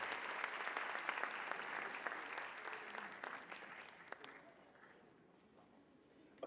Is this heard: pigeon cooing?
no